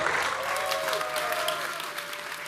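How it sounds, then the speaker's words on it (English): Audience applause welcoming a guest speaker at a cryptocurrency talk, a steady continuous wash of clapping throughout, with a faint voice beneath. "Let's give a huge round of applause for Gavin Wood."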